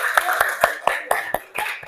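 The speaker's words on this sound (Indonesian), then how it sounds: "beri tepuk tangan pada Maulida" A small classroom group claps together in a steady, fairly even rhythm, roughly four beats per second, close by and moderately loud, with a faint murmur of voices underneath.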